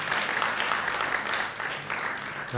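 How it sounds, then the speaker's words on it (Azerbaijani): A studio audience applauds the quiz show's super-final contestants, with dense, steady clapping throughout and a faint voice beneath it. "Alqışlayaq onları əvvəlcə."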